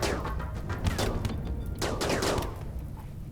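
Rapid bursts of gunfire from colonists in the video game Rimworld, several staggered volleys crackling over a few seconds with no voices.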